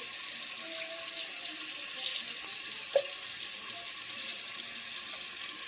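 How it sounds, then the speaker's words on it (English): Running tap water pours steadily over a piece of fresh goat milk cheese being rinsed in a sink, a constant close hiss with a faint knock near the middle. "I'm going to rinse it off a little bit"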